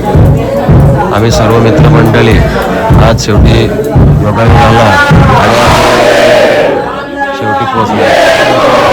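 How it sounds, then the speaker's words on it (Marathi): Large crowd at the Vetal temple in Khanderi, a loud hubbub of many voices and shouts close by, while someone talks over the babble throughout. "आज भरपूर गर्दी आहे"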